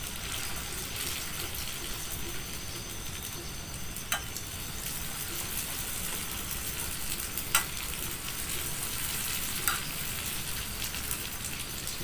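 Dough rings fry in hot oil in a pan, a dense steady sizzle throughout with a few sharp crackles and pops standing out.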